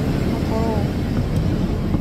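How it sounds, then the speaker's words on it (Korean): Steady broadband rumble inside an airplane cabin before takeoff on a summer flight to Jeju, with a brief voice heard faintly under the continuous hum. "우리 비행기는 이제 이륙하겠습니다."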